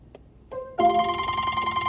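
An incoming phone call rings on a phone and cuts into a WhatsApp call; after a brief tap and click, a steady, fairly loud electronic ringtone starts and keeps going with no one talking.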